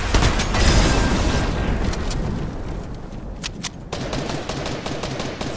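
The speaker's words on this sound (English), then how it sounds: "He's shooting from in here somewhere" Rapid video game gunfire rattles in dense, loud bursts, with sharp individual shots cracking through toward the end, no voices over it.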